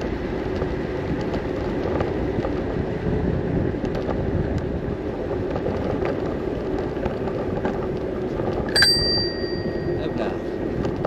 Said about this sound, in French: Petit coup de sonnette.